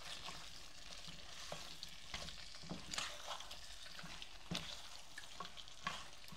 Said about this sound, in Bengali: উপর নিচ করে সুন্দর করে, যাতে মশলাটা প্রত্যেকটা মাছের মাথার গায়ে লাগে সেরকমভাবে এটাকে নেড়ে দিতে হবে।